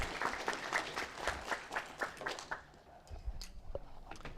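A small conference audience claps for a speaker at a research-papers session, the sparse, uneven claps fairly quiet and distinct, thinning out after a couple of seconds into scattered faint taps.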